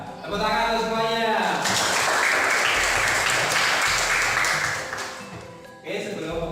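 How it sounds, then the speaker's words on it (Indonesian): A voice speaks, then a room of people breaks into sustained applause for a few seconds before it fades and talking resumes. "Tepuk tangan untuk semuanya."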